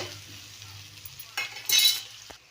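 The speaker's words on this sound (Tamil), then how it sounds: "வெங்காயத்தை நம்ம கொட்டி நல்லா தாளித்து எடுக்கணும் தாளிச்சின்னா வதக்கி வதக்கி எடுக்கணும்" Onions sautéing in a pan until golden, a soft steady sizzle with a low hum beneath and a brief louder burst of frying near the end as the pieces are stirred.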